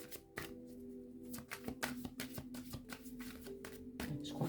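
Tarot cards being shuffled by hand close up, a quick run of crisp riffling slaps and flutters with no talking.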